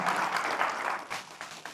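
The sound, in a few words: applause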